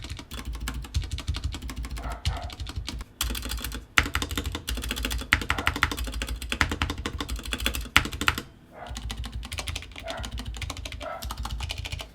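Typing on a mechanical keyboard in a sound test, a dense run of close clacky keystrokes in uneven bursts with short pauses, heard alone without talk.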